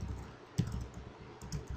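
Keys clatter on a computer keyboard while PHP code for a form is typed, a short burst of a few close keystrokes with no talk.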